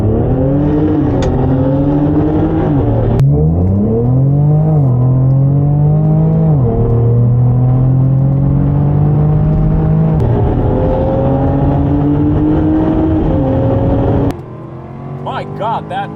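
A 2023 Jaguar F-Type R Dynamic, Audi S4 and Infiniti Q60 RS in a drag race, engines roaring loud and close as they accelerate hard, pitch climbing through several gear shifts before easing off near the end.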